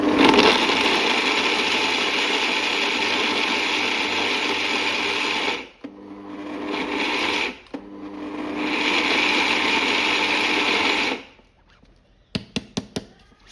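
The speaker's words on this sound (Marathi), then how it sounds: "मिक्सरला आपण हे सर्व मिश्रण बारीक केल्यामुळे झटपट तयार होतं" An electric mixer grinder pulverising leftover jowar roti, jaggery and peanuts with a loud steady whir. It runs for several seconds, stops briefly, gives a short burst, then runs long again before ending in a few quick pulses and rattles.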